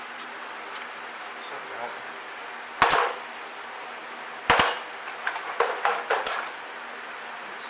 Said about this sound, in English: Flathead and just start gently prying.